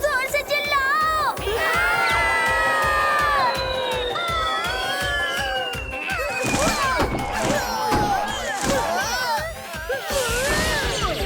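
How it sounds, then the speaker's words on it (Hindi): Animated children's film scene with a crowd of excited cartoon kids shouting and cheering loudly together, overlapping whoops and yells filling the whole stretch with steady, dense energy. "टेंशन मत लो, अब जोर से चिल्लाओ।"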